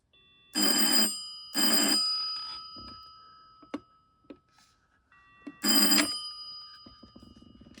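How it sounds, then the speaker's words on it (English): A Reka retro corded home phone, model TM-PA188, rings during a test call: three loud electronic bell bursts, the first two close together and the third after a pause, with faint clicks in the quiet gaps. "let's give it a test call. And it rings perfectly fine."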